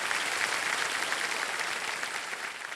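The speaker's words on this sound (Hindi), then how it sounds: "तो एक बार फिर जोरदार तालियां बज जाएं प्रिया जी के लिए" Studio audience on the KBC game show set applauds for contestant's wife Priya, a dense, steady wash of clapping that fills the space at even loudness throughout.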